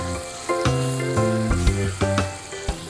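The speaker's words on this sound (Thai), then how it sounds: "น้ำมันจะค่อยๆดึง ตัวน้ำมันในตัวของหมู 3 ชั้นออกมาเรื่อย ๆ ครับ" Pork belly frying in oil in a pan gives a steady, close sizzle, partly covered by background music with clear tonal notes.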